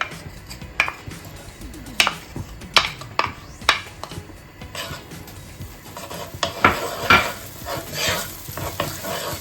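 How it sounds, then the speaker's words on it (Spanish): Garlic sizzles in extra virgin olive oil in a pan, with a utensil stirring and scraping against the cookware in irregular clatters and clicks over a soft, steady frying hiss, close and without talk. "Sofreímos un poquito."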